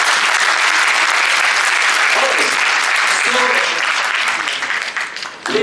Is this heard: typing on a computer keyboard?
no